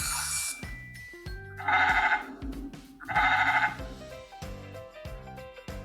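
A goat bleats twice in long wavering cries over a background of rhythmic music, each call loud and clear and separated by a short pause.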